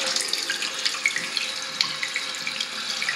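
Water runs steadily into a toilet tank refilling after a fill valve adjustment, a soft continuous hiss and trickle with faint splashes, close and fairly quiet.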